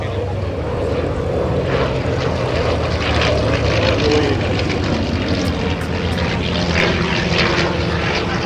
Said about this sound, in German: Und hier wunderschön jetzt für Ihre Fotos vorgeflogen, Daniel Kobli.